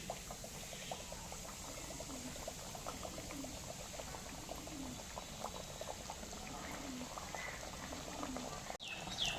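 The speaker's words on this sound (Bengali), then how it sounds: "গরম তেলে চপগুলো ছেড়ে দিচ্ছি আস্তে আস্তে ভেজে নিচ্ছি" Banana flower chops (mochar chop) frying in hot oil give a steady, soft bubbling sizzle throughout, fairly quiet and close, with a brief clatter near the end.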